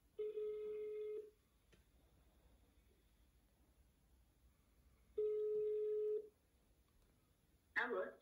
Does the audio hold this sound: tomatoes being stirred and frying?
no